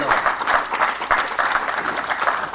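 Lively applause from an audience at a college batch reunion event in India, dense and continuous clapping close by, with no talk over it.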